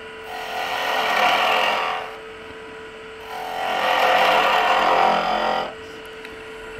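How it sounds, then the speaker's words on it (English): Wood lathe spinning a workpiece while a 3/4 inch skew chisel makes end cuts, producing two close, rasping cutting passes over a steady motor hum, each lasting about two seconds. "we're going to take our 3/4 inch skew here. First thing we're going to do is we're going to practice some end cuts."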